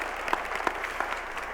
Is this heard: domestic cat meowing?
no